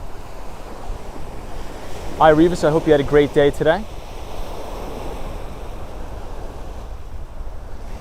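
Ocean waves on a Miami shore make a constant low rushing wash with wind buffeting the microphone, while someone talks briefly over it for a couple of seconds.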